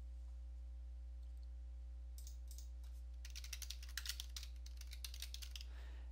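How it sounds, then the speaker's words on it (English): Typing on a computer keyboard, a quick run of light clicking keystrokes that starts faint and grows denser, set against a steady low electrical hum, with no talking. "And you want to type in memory diagnostic."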